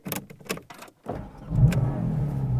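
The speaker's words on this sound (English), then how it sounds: "once you start it up, you can hear the engine very easily because it is just over your shoulder" A Porsche 718 Cayman GT4 RS, 2023 model with its engine just behind the seats, cranks and fires up after a few short clicks and bumps, settling into a loud, steady idle rumble that runs to the end.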